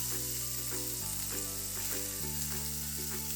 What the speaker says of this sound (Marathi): आता याच्यामध्ये कांदा टाकून देऊया